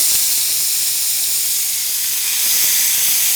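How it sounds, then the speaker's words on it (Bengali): Beef tandoori frying in hot mustard oil gives off a loud, continuous hiss and sizzle that holds steady and close throughout, with no voices over it. "এখন আমরা যখন আবার এটাকে তান্দুরি ফ্রাই করছি"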